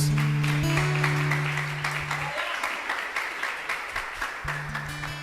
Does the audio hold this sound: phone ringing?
no